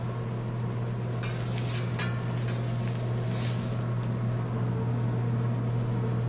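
A meatloaf sandwich with cheese heats and crusts on a hot surface, giving a steady, even sizzle over a constant low hum, with a few faint ticks and pops scattered through.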